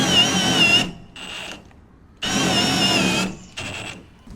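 A six-year-old power drill cranks the jack of a 32 ft gooseneck enclosed car trailer, whirring in two long bursts with short higher-pitched spins and pauses between them, close and loud.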